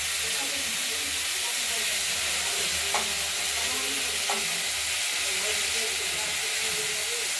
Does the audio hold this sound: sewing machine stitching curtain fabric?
no